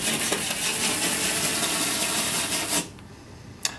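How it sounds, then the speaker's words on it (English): A rivet brush's bristles scrub 3M film down onto lightly textured paint in a close, steady rasping rub for nearly three seconds, then stop, leaving quiet and a single small tap. "The bristles on the rivet brush just help it get good adhesive contact."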